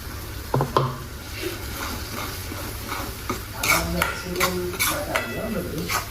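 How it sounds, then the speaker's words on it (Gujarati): Onions frying in a pan while spinach paste is stirred in for palak khichdi, a soft sizzle under scraping stirs and utensil clinks against the pot, with a few louder knocks midway. "હવે ડુંગળી ચડી ગઈ છે એમાં નાખીશું આપણે પાલકની પેસ્ટ"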